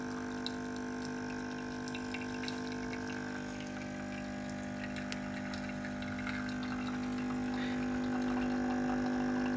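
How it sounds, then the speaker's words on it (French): A CoffeeB coffee machine brews an espresso from a coffee ball, a steady pump hum with a gurgling liquid trickle that swells slightly toward the end. "Et j'envoie mon expresso."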